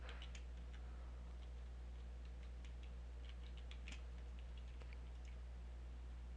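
Computer keyboard keys tapped out while entering a password, a short irregular burst of light clicks over a steady low electrical hum, faint and close.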